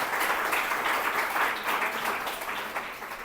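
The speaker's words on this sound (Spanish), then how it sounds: "vamos a darle un fuerte aplauso para comenzar este" At a book presentation, an audience gives a strong round of applause to welcome speaker María Solano, a dense, steady clapping from many people that eases slightly toward the end.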